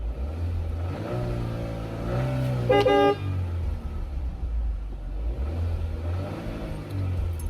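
A 2023 Chevrolet Equinox with a high-pressure fuel pump fault and reduced engine power rumbles low and climbs in revs under acceleration, with a brief horn toot partway through and the engine droning on afterward.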